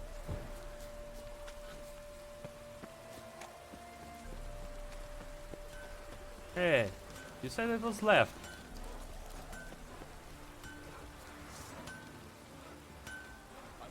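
Steady rainfall patters softly in The Witcher 3: Wild Hunt, a constant wash of drops on surfaces while someone talks briefly and a few clinks sound in the middle.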